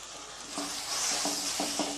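Ground spices, coriander, fennel and biryani masala, being sautéed in a pan for a prawn biryani masala: a soft sizzle with several gentle stirring scrapes, quiet and close, with no speech.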